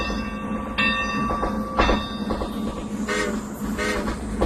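A steam train rumbles steadily up close, with sharp clanking bursts and brief tonal whistle-like lines over a constant mechanical roar; no one speaks.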